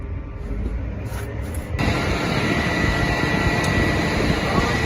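The pump on a John Deere 400 Series sprayer primes with a low mechanical whir that suddenly jumps louder and then holds as a dense, steady rushing hum.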